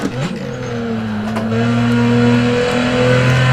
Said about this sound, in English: You hear that turbo spooling up, that whistle of that beautiful turbo going.